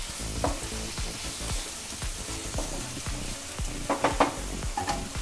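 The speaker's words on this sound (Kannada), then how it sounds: "ಪನ್ನೀರನ್ನು ಫ್ರೈ ಮಾಡಿ ಮೊಸರು ನೆನೆಸಿದ್ವಲ್ಲ, ಅದನ್ನು ಮೊಸರು ಸಮೇತ ಹಾಕ್ಕೊಳ್ಳೋಣ. ಸೊ ಇದು ಮಿಕ್ಸ್ ಮಾಡಿ." Fried paneer added with its soaked curd marinade is stirred in a hot pan for paneer pepper masala, giving steady close sizzling with repeated scraping spoon strokes and a few louder clatters near the end.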